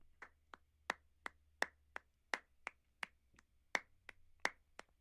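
A single dry clap sample plays in Ableton Live for Latin percussion production, about a dozen crisp isolated hits spaced evenly in a loose rhythm, close and clean over near-silence.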